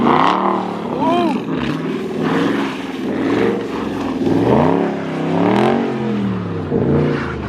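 A Dodge Scat Pack's engine roars and rises in pitch as the car spins out in deep snow, its revs swelling and falling repeatedly while people talk over it.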